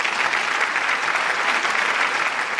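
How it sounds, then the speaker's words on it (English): A large audience at the LUX HUM Women Leaders Award 2020 ceremony breaks into sustained applause, thick and even clapping filling the hall at a constant loud level. "let's give a huge round of applause to all the incredible men and women here tonight"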